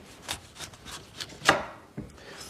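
A kitchen knife slices through a whole pineapple, trimming off its top and bottom, heard as a few sharp, crisp chops and rubbing cuts at close range with brief quiet gaps between them.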